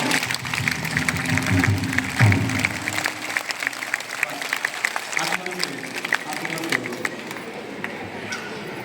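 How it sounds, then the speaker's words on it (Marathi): An audience at a Marathi kirtan celebration claps loudly in a dense burst of applause that fades after a few seconds, followed by scattered sounds and voices. "एकदा जोरदार टाळ्या वाजवा"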